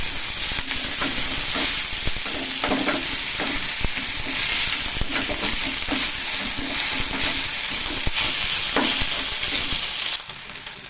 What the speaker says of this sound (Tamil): இப்போ கீரை போட்டு லைட்டாக வதக்கிக்கிறேன்